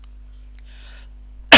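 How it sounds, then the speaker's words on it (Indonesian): One sudden, loud cough bursts out at the very end of an otherwise near-silent moment during a maths lesson, close to the microphone. "Maaf Kak batuk"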